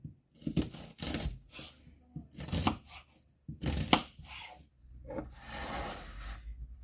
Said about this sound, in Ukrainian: Нарізаємо ось так цибульку